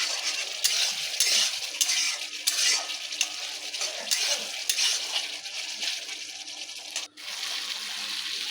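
Spice masala with a little garam masala, cooked without onion or garlic, sizzles over a high flame. A spatula stirs and scrapes it in quick, repeated strokes, with occasional metallic knocks against the pan, close and continuous.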